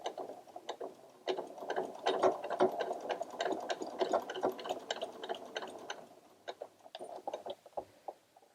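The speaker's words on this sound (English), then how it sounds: "I'm going to reverse stitch over where that sleeve part is" A sewing machine reverse stitches along the edge of a fabric book cover, a fast mechanical clatter of needle strokes running steadily and then slowing into brief bursts near the end, close and fairly quiet.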